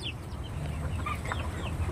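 Farm-raised chickens in a poultry house cluck and chatter softly at a moderate distance over a low background rumble.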